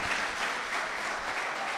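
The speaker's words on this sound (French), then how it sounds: "On continue d'applaudir le Centre d'études Lumière." Audience applause for the Centre d'études Lumière team at a televised school quiz final, a brief, even wash of clapping at moderate distance with no talk over it.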